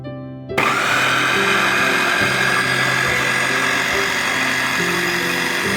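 A Gorenje HBC804QW blender starts up after a brief pause and runs steadily at a loud, even motor whine with a constant hum, close by and alone.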